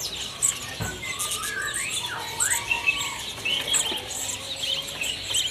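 Caged cucak ijo songbirds at a bird kiosk give repeated chirps, squawks and whistled sliding calls at moderate level, with other birds twittering faintly in the background.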